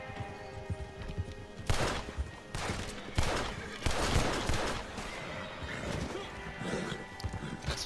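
A horse neighing and hooves clattering during a Red Dead Redemption 2 gunfight, with rapid bursts of gunfire and crashing impacts under the game action, moderately close and fairly quiet overall.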